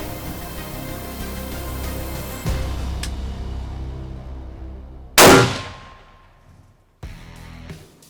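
A single loud rifle shot cracks out at a buck during a hunt, its sharp report trailing into a long fading echo, followed later by a fainter, duller knock; no voices.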